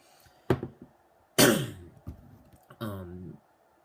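A few separate coughs after inhaling vapor from a vape, sharp and close, with pauses between them and a throaty, breathy sound near the end.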